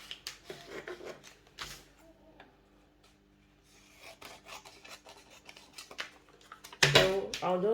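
Scissors cut through fabric for a skirt band, giving repeated close rasping snips and rubbing strokes, with a louder scraping burst near the end and a person speaking at moments.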